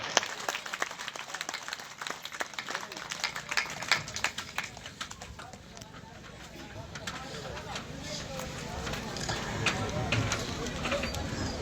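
Crowd clapping at a public social-harmony gathering attended by a deputy chief minister, a dense, sustained patter of many hands throughout, swelling toward the end, with some voices mixed in.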